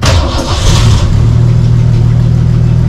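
A car engine cranks and catches with a burst, then settles into a loud, close, steady rumbling idle with harmonic hum, no voices.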